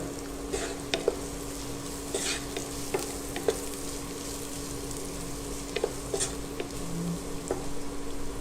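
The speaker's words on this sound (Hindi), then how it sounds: "तो इसको हम अनियन गार्लिक को ट्रांसलूसेंट होने तक पकाएंगे ताकि उसका सारा कच्चापन निकल जाए" Onion and garlic frying over medium heat in a pan, a steady soft sizzle with occasional stirring clicks and small pops, fairly quiet and continuous with no talking.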